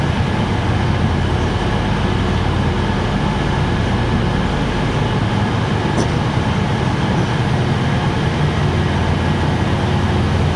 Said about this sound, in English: 68030 Black Douglas is the locomotive.